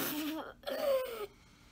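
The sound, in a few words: child coughing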